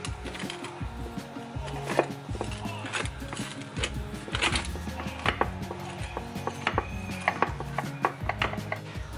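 A knife slices through a tray of homemade apple pie bars, giving repeated close crunchy cuts and taps against the pan, with a steady busy rhythm and no talking.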